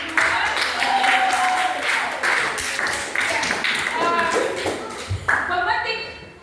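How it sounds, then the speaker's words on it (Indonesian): A classroom of students clapping for a presenting group during a social studies lesson, uneven bursts of applause mixed with chatter, taps and shuffling, with a teacher's voice and children talking over it. "Tepuk tangan untuk kelompok 2."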